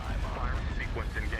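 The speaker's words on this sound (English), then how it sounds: "Velocity cannon firing." A velocity cannon fires in the Star Wars strategy game Thrawn's Revenge, a dense rumbling barrage of heavy blasts that fills the clip with continuous booming noise.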